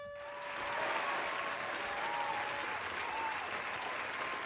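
Sustained applause from a studio audience during a live podcast taping, a steady, dense wash of clapping that swells after the first second and holds at an even level throughout.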